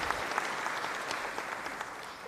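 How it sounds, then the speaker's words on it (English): Brief, fairly faint round of applause from colleagues at a KwaZulu-Natal provincial government briefing for the Premier, an even patter of many hands with no talk. "May we give the Premier a round of applause"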